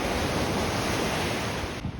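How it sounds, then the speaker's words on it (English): Ocean waves roll onto a beach along a waterfront trail, a dense, steady wash of surf with wind buffeting the microphone, loud and close, fading slightly at the end. "past the beach where the waves were rolling in"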